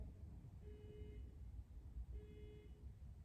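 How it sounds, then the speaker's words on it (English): A faint, distant car alarm sounds outdoors, two short repeated electronic tones spaced about a second and a half apart, heard through steady low background rumble during a quiet yoga class. "Even with that car alarm going off in the background"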